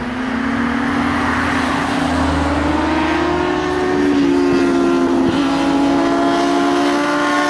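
A steady roar of passing traffic on an S-bend road in Amparo, São Paulo, Brazil, with an engine drone rising and falling as vehicles go by, loud and continuous throughout.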